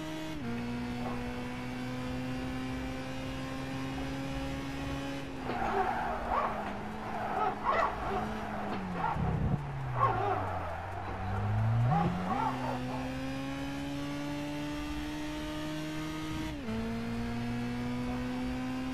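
Car engine and tire squeal in the Gran Turismo 5 racing game during a drift run, heard from the in-car view: a steady droning engine note dips and climbs again as tires squeal through a long slide, then settles back to a constant hum.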